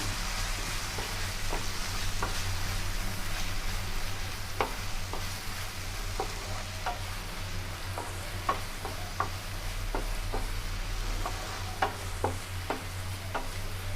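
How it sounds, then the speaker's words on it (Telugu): Onion paste and green chillies frying in hot oil, a steady close sizzle with scattered ticks and light scraping of stirring throughout, no voices. "కొంచెం నూనెలో ఫ్రై చేయాలి."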